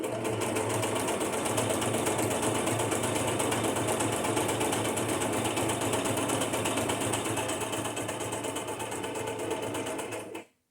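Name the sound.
sewing machine stitching on paper for a junk journal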